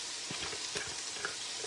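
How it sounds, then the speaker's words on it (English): Chopped peppers and onions cook in a skillet with ground beef, a soft continuous sizzle broken by a few light scrapes and stirs of a spatula, close by and without speech. "We're going to saute those up in here with that ground beef a little and let them get soft."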